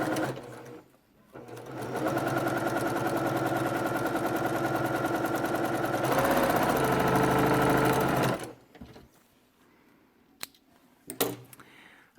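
A sewing machine stitches a 1/4 inch seam with a back stitch on a fabric face mask, humming steadily and close for several seconds before stopping, followed by faint handling noises.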